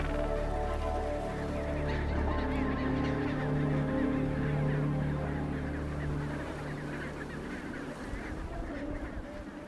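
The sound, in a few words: penguins calling during a failed mating attempt in Antarctica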